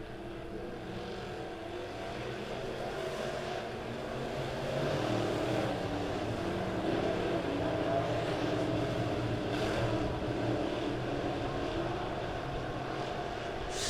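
Modified race cars roar around Springfield Raceway during opening-night heat races, a steady, dense engine drone that swells slightly midway and holds without any voices.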